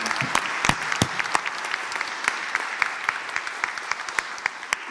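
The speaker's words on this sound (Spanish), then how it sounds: "Demos un aplauso a Ricardo Freindavi" Audience applause at a tax reform seminar, steady clapping from a room of people with sharp individual claps standing out, sustained at an even level throughout.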